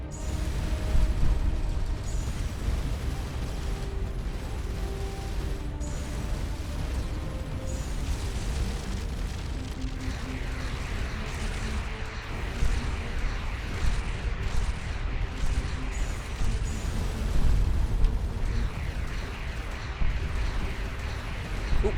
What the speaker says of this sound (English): I hear a missile.